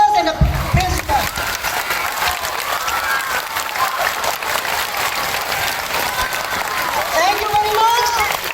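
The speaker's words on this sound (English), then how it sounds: "give huge round of applause to all your teachers and the principals" Loud, sustained applause from a school audience at Montfort School, with cheering voices and shouts mixed into the steady clapping throughout.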